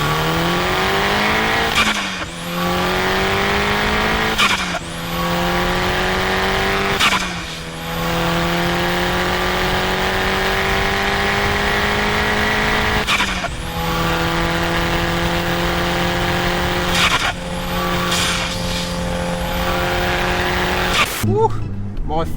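A VW Jetta 4WD turbo with a Golf R conversion accelerates hard through repeated gear changes, its engine note climbing and dropping between shifts, loud and close throughout, with people talking over it.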